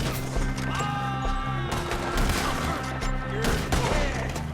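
Gunfire from a gunfight in Red Dead Redemption 2: repeated sharp shots over a loud, steady tonal music bed, with scattered crackling reports through the whole stretch.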